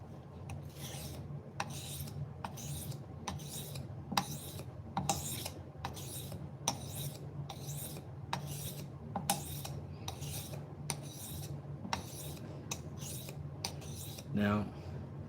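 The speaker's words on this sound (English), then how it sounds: "I'm gonna try this 1000 grit, see what it's doing." A kitchen knife is drawn across a 1000 grit whetstone in regular, evenly spaced rasping strokes, each a short gritty scrape, fairly close and steady, with a faint voice near the end.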